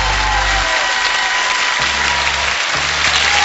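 Loud, steady applause from a crowd fills the whole stretch, celebrating a super game win in the Pole Chudes (Field of Miracles) video game, with no voices over it.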